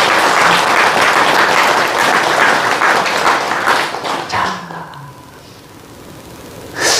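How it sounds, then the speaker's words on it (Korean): An audience at a Korean Buddhist meditation gathering applauds the senior monk, loud dense clapping for about four and a half seconds before it fades into quiet room ambience, with a brief sound returning at the very end. "우리 대여큰 스님께 박수 한번 보내드리세요."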